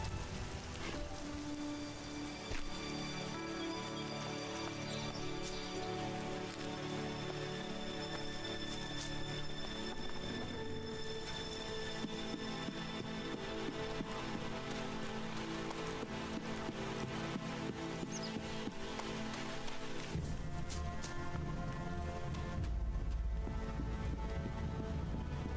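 Rain falls in the video game Elex as a continuous hiss of drops, with background music playing over it throughout.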